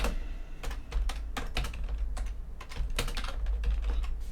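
Rapid typing on a computer keyboard, close and clear, with quick irregular key clicks in bursts over a low steady hum.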